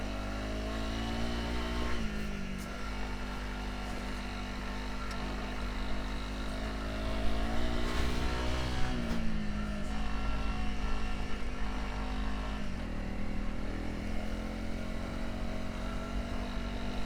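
A motorcycle cruises along a road, its engine a steady, loud drone with harmonic tones that dip and rise as the rider shifts and changes speed, over constant wind rush; no one speaks.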